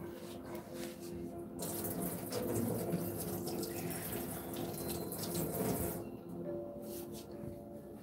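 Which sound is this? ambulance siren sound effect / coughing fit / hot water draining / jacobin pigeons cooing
hot water draining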